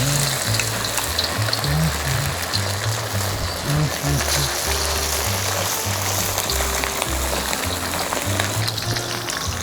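Chicken drops into hot oil for orange honey chicken and fries with a dense, crackling sizzle throughout, alongside rhythmic low thumping from nearby; a voice briefly speaks under the frying.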